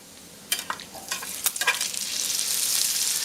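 Browned potatoes tumble into a hot frying pan for a breakfast scramble, giving a few sharp clattering scrapes and stirs that settle into a rising, steady sizzle, close and with no talking.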